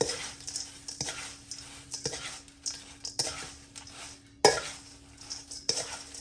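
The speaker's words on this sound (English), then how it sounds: "And I'm going to stir all that in together." A spoon stirs sausage stuffing with crackers in a pan, sounding as a run of soft scraping strokes with faint clinks against the metal, quiet and close, with no speech.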